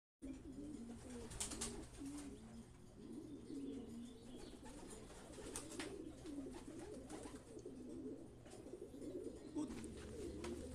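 Pigeons coo and chirp in a loft as racing birds return from a race, soft and fairly close, with repeated low cooing throughout and occasional sharper calls.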